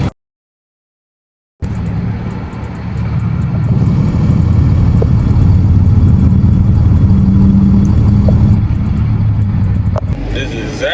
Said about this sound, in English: It's traffic, you hear me?